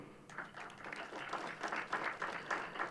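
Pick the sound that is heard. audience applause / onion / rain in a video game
audience applause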